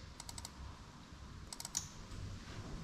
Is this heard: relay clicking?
yes